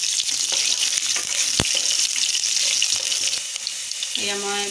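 Onions fry in oil with whole cumin in a wok over a low flame, making a loud, continuous close sizzle with a few stirring scrapes. A brief tonal clatter comes near the end.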